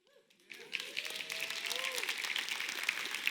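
An audience at a talk breaks into applause after a brief voice at the start, swelling within half a second into dense, sustained clapping from many hands that carries on steadily to the end.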